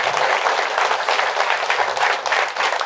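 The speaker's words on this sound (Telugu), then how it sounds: "పత్రిజీ కుటుంబానికి ఒకసారి గట్టిగా చప్పట్లు కొడతాం" Loud, sustained applause from a large audience at a spiritual gathering, dense clapping holding steady throughout with no speech over it.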